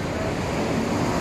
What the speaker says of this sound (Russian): Волны аж захлёстывают.